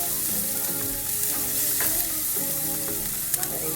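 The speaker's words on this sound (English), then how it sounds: "let them two saute together" Vegetables sauté in a pan for a vegan spinach artichoke dip, a steady close sizzle with intermittent stirring scrapes and small clinks, no talking.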